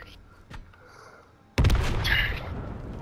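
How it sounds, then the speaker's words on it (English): Gunfire in a video game: a faint pop early on, then a sudden loud burst of shots with a booming, echoing tail that fills the rest of the moment. "someone's shooting stuff over there"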